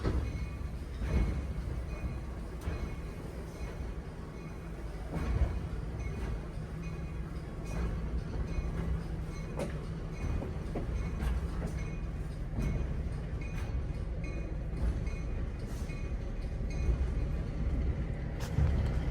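Steady rumble and rattle of a passenger train ride at the Ravenna Railroad Festival in Ravenna, Kentucky, with rhythmic wheel clacks over rail joints, continuous and close, with a voice faintly under it.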